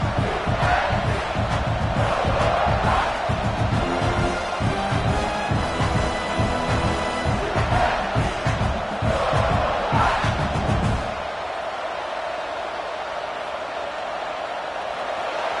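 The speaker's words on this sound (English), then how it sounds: "This crowd is trying to inspire this defense to make a big red zone stop." A huge American football stadium crowd roars and chants loudly in rhythmic bursts during a red zone defensive stand for about eleven seconds, then fades to a quieter murmur.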